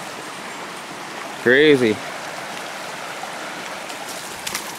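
Steady rushing water from a waterfall on a snowy hike runs as a constant broadband wash, with a brief spoken exclamation over it partway through.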